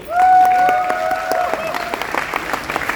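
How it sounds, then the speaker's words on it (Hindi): An audience at a speech event in Patna breaks into applause, loud clapping beneath a sustained whistle-like tone at the start, then scattered claps thinning out. "इन महागुरुओं के लिए हम चाहेंगे जोरदार तालियां"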